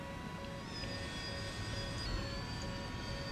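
Yak-38 jet aircraft in a combat flight video game, engine roaring steadily and loudly throughout, with a continuous broadband rumble and a faint high whine.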